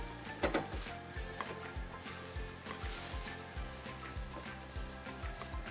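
Tomato sauce for shakshouka cooking slowly in a pan, giving a steady close sizzle and bubbling with soft scraping and rubbing from mashing, plus repeated low thumps throughout and no talk.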